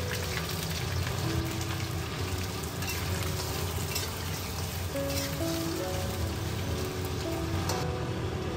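Lamb chops and ginger slices frying in hot oil in a wok, a steady dense sizzle and crackle running the whole time, close and fairly loud, with faint clinks and tonal kitchen sounds in the background.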